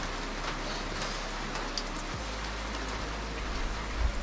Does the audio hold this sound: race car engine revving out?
no